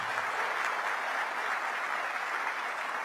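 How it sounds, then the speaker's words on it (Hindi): A crowd applauds loudly and steadily at a public address about the Amul cooperative brand, the dense clapping sustained throughout without a break. "आप जोर से ताली बजाना"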